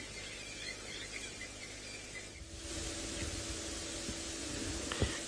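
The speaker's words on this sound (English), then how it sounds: "I'm going to sit here for a little bit longer and listen to the singing grasshoppers." Grasshoppers sing at sunset during a safari drive, a faint, continuous high buzzing chorus over soft background hiss, with no speech.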